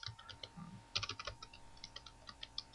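Close, quiet typing on a computer keyboard: a quick run of light key clicks with irregular spacing and a few firmer taps, one of them likely the Enter key; nobody talks over it.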